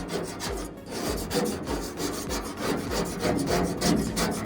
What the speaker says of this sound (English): So I'm up here scraping right now.